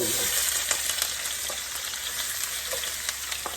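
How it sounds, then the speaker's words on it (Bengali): Onion, green chili and bitter gourd fry in hot oil while being mixed, giving a continuous close sizzle with scattered scraping clicks from stirring. "এখানে পেঁয়াজ কাঁচামরিচ করলা কেটে মিশিয়ে দিচ্ছি"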